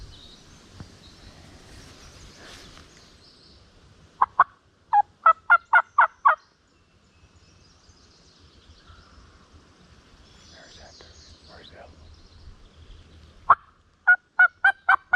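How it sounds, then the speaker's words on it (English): Wild turkey gobblers in late May in Pennsylvania, heard as two bursts of loud, rapid gobbling in the distance, the first from about 4 to 6 seconds and the second near the end, set against a quiet woodland background. "One turkey's gobbling right there"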